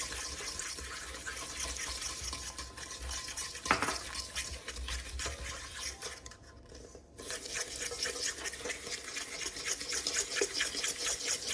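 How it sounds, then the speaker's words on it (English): Chocolate chip cookie ingredients being mixed by hand with a fork in a bowl: a continuous scratchy, swishing stir that pauses briefly partway through, then resumes. "Right now I'm using a fork. So mix them well."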